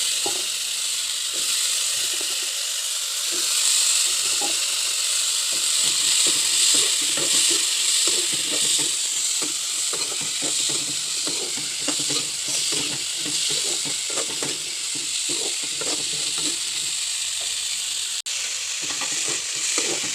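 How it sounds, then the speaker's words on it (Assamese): Potatoes frying with onions and turmeric in hot oil, a continuous loud hiss and crackle with frequent scraping stirs throughout, no speech. "মই ভাজি আছোঁ"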